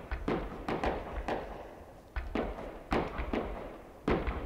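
Cannons fire in the Human Fall Flat Christmas event, giving a series of heavy, booming thumps at uneven intervals, each one trailing off. The shots are fairly loud and no voice is heard.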